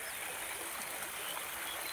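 Soft, steady rush of flowing water at a village lake, faint and continuous like a small stream or trickle, with no voices.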